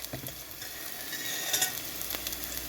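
Vegetables with spring onion sizzle and fry in a pan for a vegetable soup while being stirred, a steady close crackle with a few scraping stirs and no voices.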